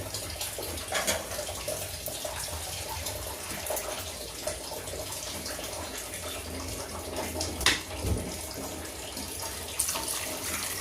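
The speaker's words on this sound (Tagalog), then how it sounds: "At maglagay na rin tayo ng tubig." Water streams steadily from a tap into a cooking pot of fish with vinegar, a continuous splashing pour with occasional louder splashes, no talking.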